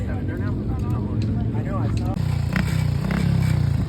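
Vintage Triumph motorcycle at the Biltwell 100 race pulling away for its second lap, engine revving and rising under cheering voices, then settling into a loud throbbing drone close by.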